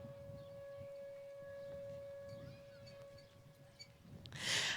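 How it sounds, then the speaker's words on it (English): A civil defense siren wails at a small-town picnic parade, a steady sustained tone heard at a distance with faint crowd sounds beneath and a brief rustling burst near the end. "There's the siren."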